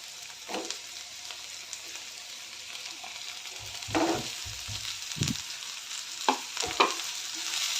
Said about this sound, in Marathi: थोडी मिक्स करून परतून घ्यायचं एक दोन मिनटं